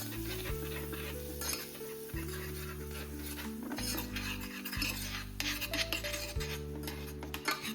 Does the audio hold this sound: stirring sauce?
yes